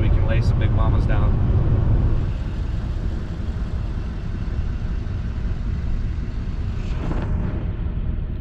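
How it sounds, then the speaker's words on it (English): A loud truck engine idles and rumbles heavily and steadily at close range on an early morning before elk hunting in Wyoming, with a voice speaking over the start. "That's a loud truck."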